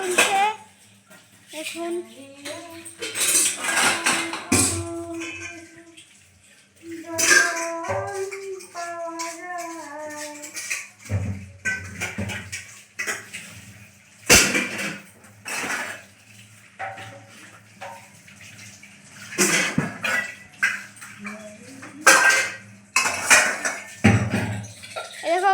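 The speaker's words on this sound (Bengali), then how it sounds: "আমার মা এখন বাসন তুলছে" Dishes, pots and utensils being handled and lifted at home, giving intermittent clanks and metallic clatters, with a person talking over much of it.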